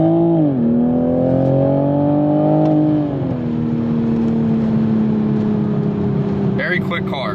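Toyota MKV Supra, stock, engine note rising loudly as it pulls hard after a downshift, a steady harmonic drone climbing then settling into a sustained high-rpm cruise, with faint speech beneath.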